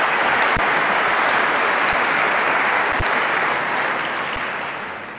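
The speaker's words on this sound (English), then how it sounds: "I think you should give them a round of applause for that" A large audience at the Mining Indaba applauds after a speech, a loud, dense, sustained clapping that fades slightly toward the end.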